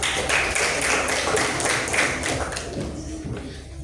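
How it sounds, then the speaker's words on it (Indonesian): Classroom applause for a student group: dense, steady clapping from a room of students that fades slightly toward the end. "Tepuk tangan untuk kelompok 2."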